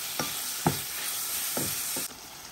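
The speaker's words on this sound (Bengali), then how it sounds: "তো এটারে আমি এখন একটু কষাই মাছটা দিয়ে" Rui fish pieces sizzle in oil with tomato and green chillies in a pan, a soft steady frying hiss punctuated by four distinct scraping stirs of a spatula.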